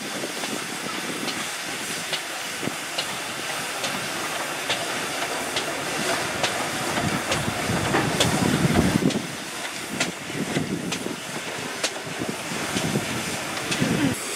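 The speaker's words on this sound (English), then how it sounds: "Four Great Western Railway Castle Class steam locomotives" Great Western Railway Castle Class steam locomotives at Didcot Railway Centre hiss steadily with broad steam noise and occasional clanks, swelling louder midway before easing.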